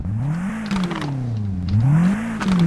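A Peugeot 3008 engine in Euro Truck Simulator 2 drones steadily, its pitch rising and falling in smooth revving swells throughout, loud and close with no talk over it.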